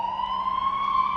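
A siren wails steadily in a single sustained, slightly rising tone, loud and close, over a low background hum.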